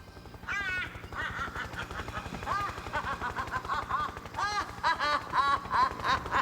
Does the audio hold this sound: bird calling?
yes